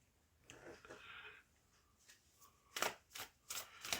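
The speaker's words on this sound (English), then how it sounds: "let's shuffle all the cards" Tarot cards being shuffled up close, soft rustling at first and then a run of sharp riffling bursts in quick succession toward the end, with faint breathing.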